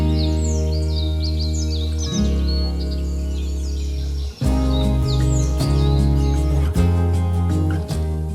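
Birds chirp and trill high in the Kakum National Park rainforest canopy in Ghana, clearest early on, heard beneath a loud, sustained musical score that swells midway.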